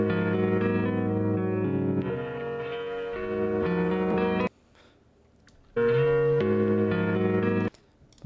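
Synth-like music run through a high-pass filter in After Effects: sustained bright harmonic chords, thinned at the bottom, that cut out abruptly into near silence, return loud, then stop again.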